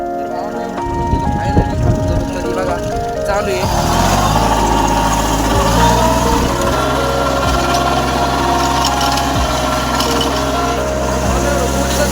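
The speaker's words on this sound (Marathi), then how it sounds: "आता ट्रॅक्टर बघा चालू आहे" A heavy tractor engine runs with a loud, steady low rumble after starting up, and a person talks over the drone.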